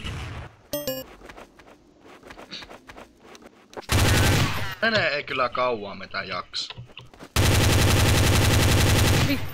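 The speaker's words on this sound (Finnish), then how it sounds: "mä ammun kaikkea mikä liikkuu" Rapid automatic gunfire and bursts of shots from Counter-Strike: Source, loud and dense in two long stretches, with voices talking over the game between them.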